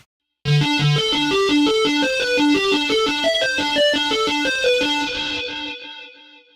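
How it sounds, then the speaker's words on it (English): A distorted high-gain keyboard synth patch plays a quick run of bright, buzzy notes in a steady rhythm, then fades out, with no one speaking. "only it has high gain,"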